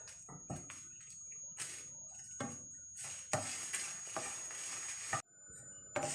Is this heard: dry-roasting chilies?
yes